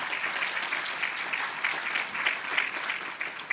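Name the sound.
applause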